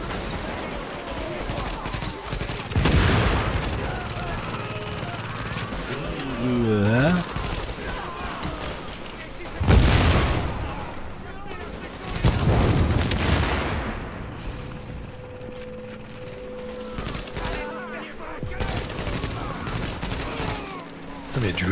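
Gunfire in The Division, a shooter video game, as enemies are shot: several loud bursts of shots and booms spaced through the stretch, with game sounds between them and a voice talking underneath.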